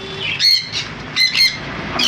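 Yellow-sided conures, 7 to 10 months old, chirping loudly up close in short sharp bursts, several calls spaced irregularly with a constant bird chatter underneath.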